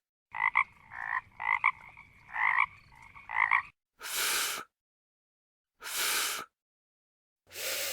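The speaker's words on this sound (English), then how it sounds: "Frog." Frog croaks: a run of four rapid throaty croaking bursts, then three longer, breathier croaks spaced about two seconds apart, close and clear with no other sounds.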